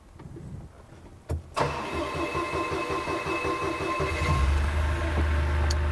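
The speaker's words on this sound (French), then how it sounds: "on va allumer le chariot, on va le démarrer" A Fenwick H20–H35 forklift is started: a starter crank burst around one and a half seconds catches into a steady idling engine hum that grows fuller and louder toward the end, heard close with no talking.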